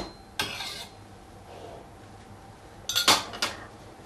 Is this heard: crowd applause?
no